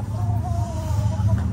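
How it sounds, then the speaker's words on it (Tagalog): Gamefowl roosters and hens kept on a Philippine farm, clucking softly over a steady low hum, with a faint drawn-out crowing call in the background. "mga manok to ni Totog."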